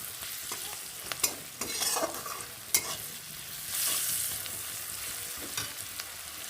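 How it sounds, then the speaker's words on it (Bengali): Onion with turmeric and red chili sizzles quietly in a pan, broken by scraping stirs and a few sharper spatula knocks, with a brief swell of hiss partway through and no talking. "পেঁয়াজটা কিন্তু আমার ভাজা হয়ে গেছে"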